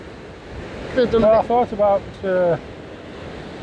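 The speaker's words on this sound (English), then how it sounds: "There's some big waves out there." Big sea waves rolling onto a sandy beach in the Outer Hebrides make a steady, broad roar with wind, while a person talks briefly in the middle.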